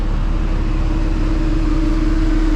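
Busy street traffic in Hanoi, Vietnam hums with a steady, loud engine drone from cars and motorbikes passing close by, continuous with no pauses.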